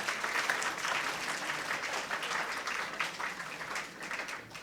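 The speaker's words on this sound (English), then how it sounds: "I think he deserves another round of applause." An audience at a STEM innovation and incubation center inauguration claps in a steady, dense round of applause, moderately distant and sustained throughout, with no voices over it.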